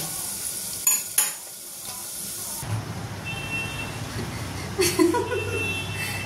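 Potato peels fry in a pan: a couple of sharp utensil clinks, then a steady hissing sizzle with stirring swells, close and fairly loud.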